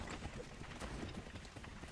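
Horse hooves clip-clop in the video game Assassin's Creed 3, a quiet, soft run of hoofbeats under a low rumbling game soundscape.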